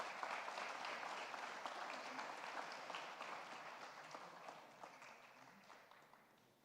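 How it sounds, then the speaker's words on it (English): Steady audience applause at an alumni meet felicitation, a dense wash of many hands clapping at moderate distance and fairly faint, slowly tapering over several seconds. "can we have a loud applause?"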